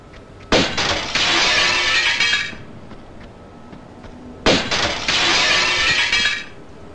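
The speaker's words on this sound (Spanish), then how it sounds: "no sé muy bien para qué sirve reventar cristales aquí" Glass crystals shatter in Tomb Raider, two loud bursts of breaking glass a few seconds apart, each followed by a bright, lingering spray of falling shards, with no talking.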